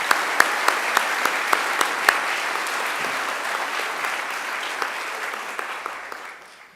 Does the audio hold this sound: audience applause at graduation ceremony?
yes